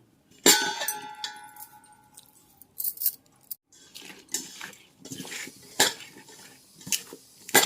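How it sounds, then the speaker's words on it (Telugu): Gram flour is mixed in a metal basin, heard as sharp clangs and scraping taps of a utensil against the basin in irregular bursts with quiet gaps, close and fairly loud, with no talking. "బేసిన్ శనగపిండి వేసుకుని కలుపుకుందాం"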